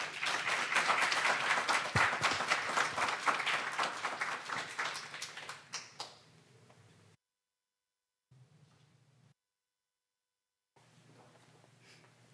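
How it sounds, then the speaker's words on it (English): Audience applause at a poetry reading as a poet walks to the stage, loud, dense clapping that gradually thins and fades out over several seconds into quiet room tone. "There ought to be a rule, if you walk slow, you have to keep clapping."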